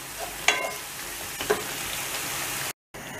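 Peanuts going into onions and tomatoes frying in oil in a pan for peanut soup: a steady close sizzle with a couple of brief clatters as the nuts drop in, then a short cut to silence near the end.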